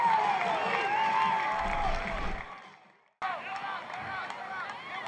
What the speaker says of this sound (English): The fans are out tonight despite the weather, and boy, did Gutowski give them something to cheer about there.